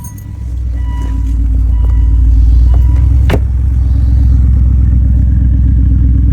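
A 2005 Volvo S60 R sedan with an AWD turbocharged engine runs with a deep, steady low rumble that swells into a strong rev and holds, with a brief sharp click midway.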